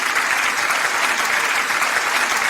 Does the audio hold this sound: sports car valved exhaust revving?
no